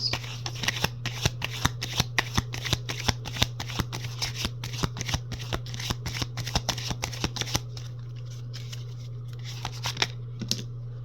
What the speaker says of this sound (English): I'll warm up the deck here a little bit